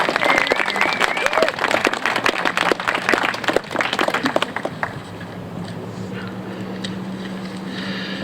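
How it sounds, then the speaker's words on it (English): Audience applause at a dedication ceremony, a dense sustained wash of many hands clapping loudly for about five seconds, then fading to a softer patter with a low hum and a few scattered voices. "Please join me in a round of applause."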